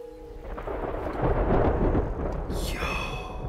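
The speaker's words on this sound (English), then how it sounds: "Do you hear that thunder? It sounds incredible." A deep rumble of thunder in the video game Terra Nil swells and rolls, loud and low, then fades as a high electronic tone rises at the end.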